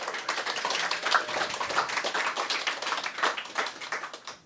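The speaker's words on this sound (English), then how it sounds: "So let's give a round of applause for Matthew Wolfe." Audience applause for a guest at a public talk, a dense patter of light claps spread evenly across the whole stretch at moderate volume, with no voices rising above it.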